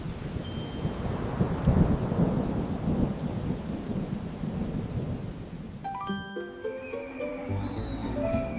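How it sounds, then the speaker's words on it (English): Heavy thunderstorm with steady loud rain and rolling thunder, a dense continuous roar that fills the scene, joined near the end by soft melodic tones. "A heavy storm is coming tonight."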